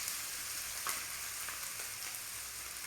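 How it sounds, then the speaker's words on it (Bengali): Onions and green chillies frying in a pan give a steady, soft sizzle with faint crackles throughout, with no voices. "পেঁয়াজটাকে লাল লাল করে ভাজতে হবে।"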